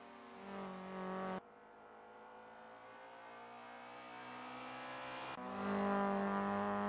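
A race car on a hot lap in a TC2000 sim racing game, engine droning and climbing in pitch with sharp shift cuts, loud and close throughout with no voices.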